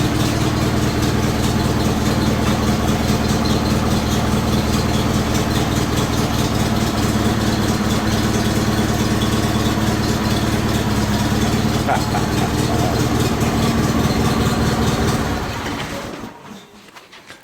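A John Deere 318 garden tractor fitted with a lifting plow on a 3-point hitch runs steadily at close range with a loud, even engine drone, then fades away at the very end.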